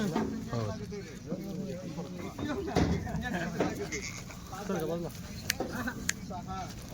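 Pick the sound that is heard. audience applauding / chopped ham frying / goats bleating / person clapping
goats bleating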